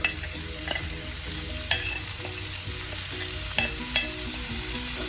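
Amaranth leaves sauté in a hot pan with garlic and onion, giving a steady close sizzle broken by several sharp scraping stirs of a utensil.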